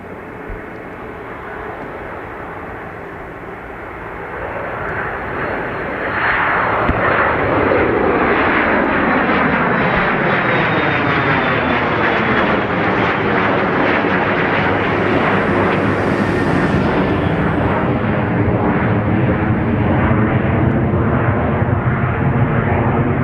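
Airliner jet engines spool up and roar on departure from Dublin Airport runway, a steady rumble that swells sharply after a few seconds and holds loud and close, with a rising whine from a heavy aircraft.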